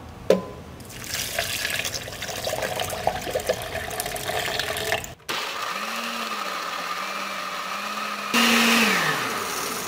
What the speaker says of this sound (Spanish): Es importante dejarlo licuar por varios minutos.